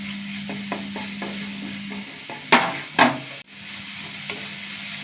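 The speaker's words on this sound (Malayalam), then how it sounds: "ഉള്ളി ഒന്ന് മൂത്ത് വരട്ടെ." Six or seven crushed small onions sizzle while frying in a pan, a steady close hiss broken by a few scraping stirs and louder spatters.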